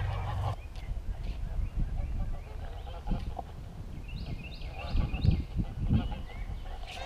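Geese honk in a scattered chorus at a fishing spot, moderately distant and overlapping, with a few louder calls later and faint voices around them.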